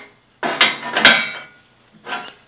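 A bolt on a tractor implement is tightened down until its lock washer flattens, giving a few close, gritty ratcheting and scraping bursts, then a quieter one after a short pause.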